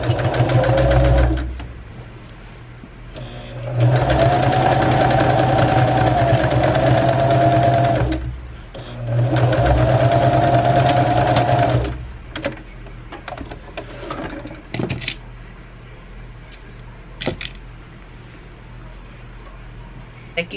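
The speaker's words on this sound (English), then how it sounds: "I sewed the opening closed, and now we have the basic apron shape" A sewing machine stitching an apron runs in two steady, loud whirring bursts of a few seconds each, then falls quiet apart from scattered light clicks and handling taps.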